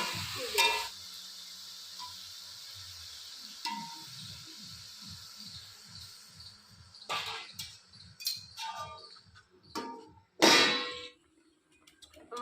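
A lid clangs onto a pot of Bengali fish curry in a village kitchen: a few sharp metallic clangs and rattles, with a soft rhythmic scraping and a low simmering hiss between them.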